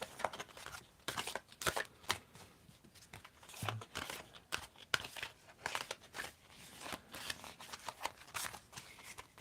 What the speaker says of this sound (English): Tell me when to stop shuffling and mixing this up.